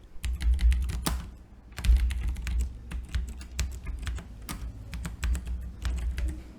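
Close computer keyboard typing in Notepad, clusters of rapid clicks broken by brief pauses, with a few louder key strikes like Enter or space standing out; no one speaks.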